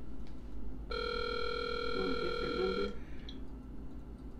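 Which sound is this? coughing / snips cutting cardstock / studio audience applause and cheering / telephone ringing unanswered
telephone ringing unanswered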